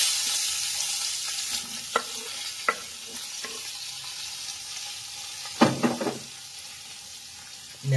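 Drumsticks and bottle gourd fry in a spiced pan with a constant close sizzle, broken by scattered stirring clacks and a brief cluster of scraping spoon strikes near the end.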